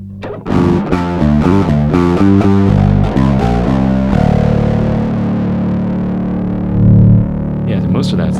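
Electric guitar driven through a Fulltone OCD Germanium overdrive pedal, playing a loud, crunchy run of chords and riffs that ends in a long sustained ringing chord, close and up front.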